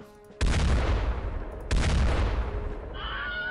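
Heavy, booming gunfire blasts in rapid succession with a dense rumbling tail, combat in the game The X-COM Files, with a second volley midway.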